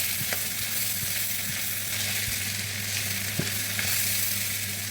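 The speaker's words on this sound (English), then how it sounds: "Mix it together, turn it very well so that the under of the pot will not get burnt." Red oil rice with bonga fish is turned in a pot, giving a loud continuous sizzle with occasional soft knocks and scrapes from the spoon and no voices.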